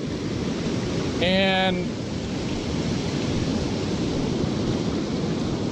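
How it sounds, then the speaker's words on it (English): Ocean waves crash into white foam on an Oregon coast beach, a steady wash of surf noise heard from close by. A voice speaks a single word briefly early on. "the white foam where the waves are crashing"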